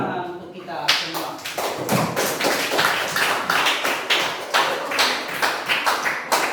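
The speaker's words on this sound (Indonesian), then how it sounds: "Kita sekali lagi minta tepuk tangan untuk kita semua." A classroom of students clapping together after a fractions lesson, rapid irregular hand claps in a lively burst, rising after a brief quiet start and continuing with some voices mixed in.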